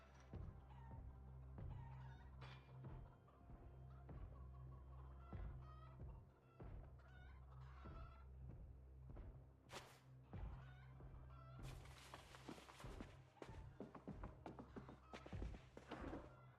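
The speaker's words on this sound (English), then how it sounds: "Why do I hear chickens?" Chicken clucking and fowl calls from a video game mix with thunks and game noises in a steady, busy soundscape with no talk.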